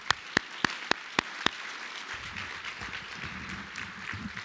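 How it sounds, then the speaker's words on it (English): Audience applause for madrigal singers at a senior awards ceremony, opening with several sharp, separate claps before swelling into a steady, moderately loud round of clapping. "one more round of applause for them"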